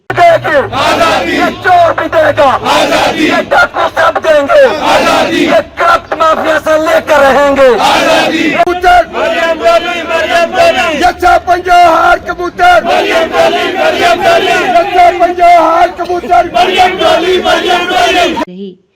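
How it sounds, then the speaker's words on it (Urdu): Pakistani PTI protesters outside the Pakistani embassy in Berlin chant slogans for Imran Khan's release, a loud crowd shouting in rhythmic call-and-response that continues steadily with brief pauses between phrases. "عمران خان کی رہائی کے لیے نعرے بازی ہوتی رہی۔"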